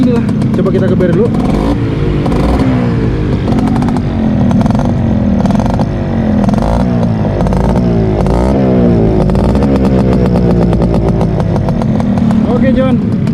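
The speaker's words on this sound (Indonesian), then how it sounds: "Oke Jon, kayak gini lah bunyinya. Sampai bunyi mesinnya pun halus banget" A stock Yamaha Alfa 2R two-stroke motorcycle engine revs repeatedly in loud bursts, rising and falling in pitch, close by throughout.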